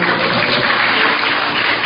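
Steady, dense applause from a church congregation at a Sunday service, continuous and fairly loud throughout with no voices standing out.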